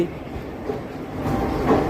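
The Vijayawada–Visakhapatnam Ratnachal Superfast Express pulls away from the next platform, heard as a steady low rumble of rolling rail cars, fairly loud and close, with no speech.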